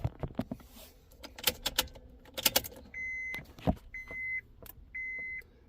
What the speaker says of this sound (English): cycle that ignition off and on again